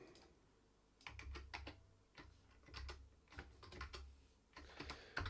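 Typing on a computer keyboard that is acting up, with the command key needing an extra-hard press, heard as bursts of close, crisp key clicks in uneven clusters with short pauses between, quiet overall and without talk.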